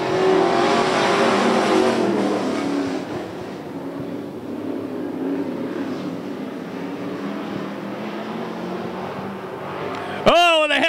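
Street stock race cars accelerating on the track at Cottage Grove Speedway, a loud roaring pack of engines that dips and swells as they pass, with a trackside announcer's voice partly over the noise and a sharp squeal near the end.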